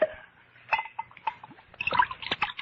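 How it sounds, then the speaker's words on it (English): Sherry poured into a glass in an old-time radio drama, a short run of light liquid trickles and small splashes lasting a couple of seconds, fairly close and soft. "you can pour me a glass of sherry"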